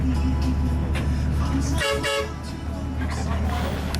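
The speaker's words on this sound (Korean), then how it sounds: "버스가 빵빵대는 이유는 커브길에서 안전하게 운전하기 위함이다." A tour bus run by the mountain fortress at Wunü Mountain honks its horn on a winding uphill road, two short toots over the engine rumble, with voices chattering inside.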